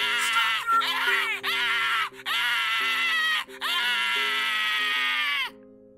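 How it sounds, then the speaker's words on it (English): A man screams in the horror game Amnesia: In A Heartbeat, several long, loud, shrill wails in quick succession, broken by brief gaps, close and harsh over a low steady game drone. "that man can scream."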